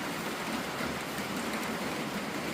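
Steady, dense hiss of rain drumming on a barn roof overhead, continuous and even throughout with no voices.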